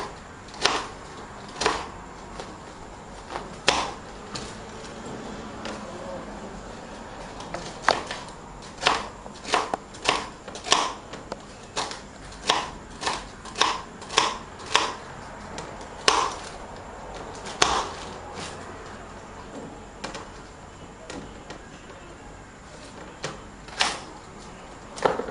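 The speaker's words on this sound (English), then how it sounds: "Okay, so I'm just going to cut everything up quickly." A knife chops salami sticks on a board in close, sharp, evenly spaced thuds that repeat steadily for about twenty-five seconds, with no talk.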